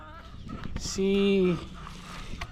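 An old chicken gives a short, drawn-out clucking call close by, over faint farmyard background noise.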